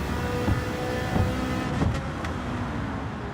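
A car engine drones and revs in Gran Turismo 7 during a Decades Night race on ice, a steady, loud motor hum with a few sharp surges and gear changes and no talking over it.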